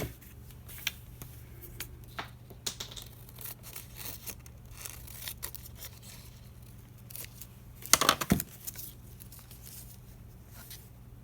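Scissors snip through a paper doily in one brief, crisp crunch near the end of a quiet tabletop crafting stretch with faint background hum and occasional small rustles.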